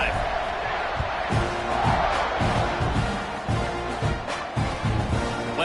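Football stadium crowd cheering during a kickoff after a touchdown drive, a loud continuous roar of many voices with shouts and thumping bursts, a commentator talking over it.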